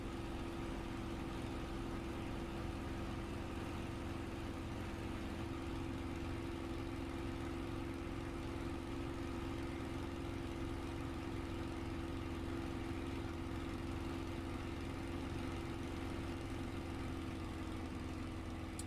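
A Spitfire's big piston engine runs steadily in Microsoft Flight Simulator, a continuous deep drone with a strong low hum and constant level, heard alone and close for the whole stretch.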